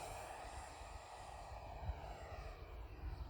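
An E-flite F-16 Falcon 80mm ducted-fan RC jet flies at full throttle, giving a steady, fairly faint rushing whine that holds evenly throughout with no voices.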